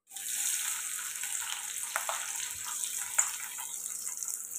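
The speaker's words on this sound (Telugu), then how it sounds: "ఇప్పుడు కట్ చేసి పెట్టుకున్న ఉల్లిపాయలు అయితే వేసాం." Chopped onions hit hot oil with mustard seeds and cumin in a pan, giving a steady, close hiss and sizzle with a few soft stirring taps.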